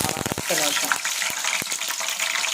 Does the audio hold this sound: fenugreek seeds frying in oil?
yes